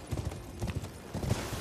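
Horse hooves clip-clop in Elden Ring on PS5: a few quiet, soft irregular hoofbeats in short clusters.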